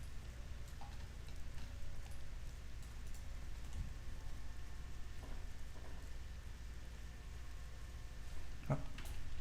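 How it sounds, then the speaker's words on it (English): Steady rain falls in the World of Warcraft game world, a soft, continuous patter at low level with a few faint scattered sounds on top and no talking. "Actually, I hope the rain keeps going."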